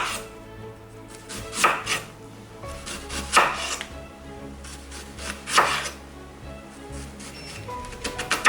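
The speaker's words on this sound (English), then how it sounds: "Claw method, cut. Thin slices along the lines." A knife slices beef into thin strips on a cutting board, a series of close, crisp cuts spaced unevenly with louder strokes standing out, no talking.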